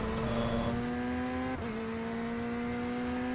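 A Corvette race car engine in iRacing drones at a steady, buzzing pitch, close and fairly quiet, briefly dipping as if shifting gears partway through before holding steady again.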